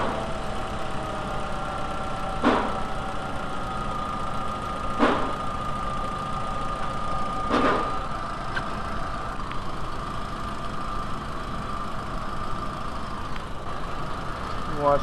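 A VW A4 with a 2.0L engine idles steadily at mid-level, a constant hum with a few sharp clicks or taps breaking in at regular intervals.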